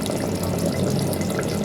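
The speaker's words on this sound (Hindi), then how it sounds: "मैं यहाँ हाफ़ कप पानी ऐड करूँगी क्योंकि मुझे ज़्यादा ग्रेवी नहीं चाहिए।" Half a cup of water poured into a pot of beef pasanda, giving a short, steady splashing rush that stays loud and close throughout.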